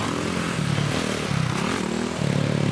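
Race motorcycle at a team race, engine loudly revving and rising in pitch in repeated surges as gears shift, close and steady throughout.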